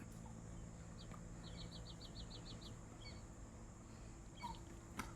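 Chickens cluck softly in a short run of quick notes over a steady humming background, fairly distant, followed by a couple of scattered calls.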